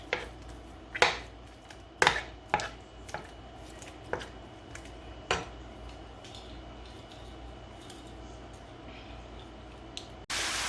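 Ground meat browning in a pan for lasagna, a quiet steady sizzle broken by several sharp clanks and scrapes of a utensil against the pan, with a louder burst at the end.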